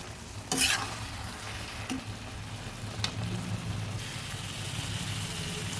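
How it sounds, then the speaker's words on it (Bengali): Chingri chalkumro curry, shrimp with ash gourd, cooks down in a pan, giving a steady low sizzle with a few sharp stirring scrapes near the start, close and continuous, with no one talking. "তরকারিটা ভালোভাবে শুকিয়ে নিচ্ছি"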